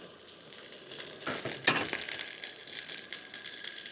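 Pink salmon frying in a pan outdoors, a steady close hiss and crackle of sizzling fat with a few brief louder spits, with no talking.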